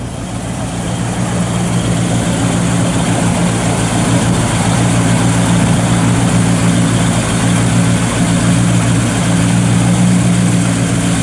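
A 1961 Chevrolet Biscayne 409 engine idles steadily and loudly for the whole stretch, with a constant low rumble and no voices.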